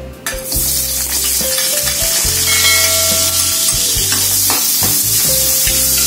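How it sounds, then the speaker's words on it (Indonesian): Onion and ground garlic spice paste are stir-fried in hot oil, giving a loud, close, continuous sizzle with scraping stirs and a sharp clatter at the start, with no voices. "Kita langsung tumis bumbu halusnya tadi."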